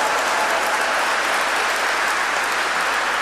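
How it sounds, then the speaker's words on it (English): Steady, dense applause from a large audience at a memorial service, a continuous even wash of clapping with no pauses. "I'm sure you're clapping because I'm the last speaker."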